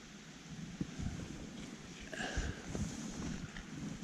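Wind gusts outdoors beside a river on a trout-fishing outing, a steady rushing buffet against the microphone with faint water movement underneath, no one talking.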